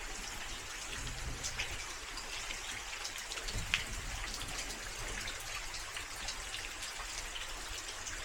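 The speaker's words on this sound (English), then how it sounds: "Isn't it just gorgeous in the rain?" Steady rain falls in Japan, a soft continuous patter with scattered drops, moderately quiet and without voices.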